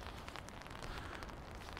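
Steady rain falling outdoors on a small island, a dense, even hiss of drops that holds constant and fairly quiet throughout.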